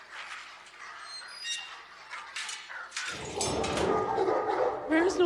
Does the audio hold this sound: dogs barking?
yes